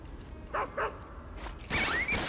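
A dog yelping after being shot in a video game: two short, sharp yelps close together, followed by a louder whimpering cry, brief and close.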